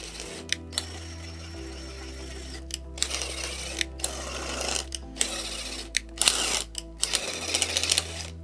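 A power driver backs a bolt out of a motorcycle fender on a Yamaha XV750, giving several short whirring bursts with clicks and pauses between them against a steady low workshop hum.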